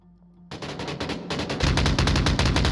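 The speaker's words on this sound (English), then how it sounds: "More shots from Bass, and he gets Nolomite in the smoke" Rapid bursts of loud automatic gunfire in the Onward VR shooter game, several overlapping volleys in quick succession, close and dense, with no talking.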